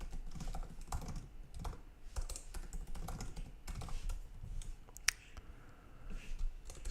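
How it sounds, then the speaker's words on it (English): A computer keyboard clatters steadily with rapid, close typing in uneven bursts, broken by a few short pauses and one sharp click. "typing."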